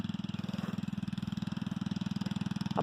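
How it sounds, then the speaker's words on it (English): A farm tractor engine runs steadily in spring on a farm, a close, rhythmic low chugging pulse that holds even throughout with no voices. "Oh, and there's the tractor."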